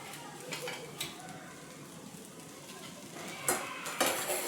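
Vegetable fried rice with lemon juice and coriander being tossed and mixed in a pan, heard as soft scraping and occasional spoon knocks on the pan over a faint sizzle. The sound is quiet and close, with a louder clatter near the end.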